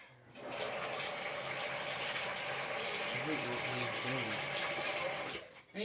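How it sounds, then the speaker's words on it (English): Water poured or running from a tap into a pot of green beans, a steady continuous gushing and splashing that holds for several seconds before cutting off, with some background noise beneath. "I'm going to be adding just a little more water because I don't like how the green beans are floating so close to the surface"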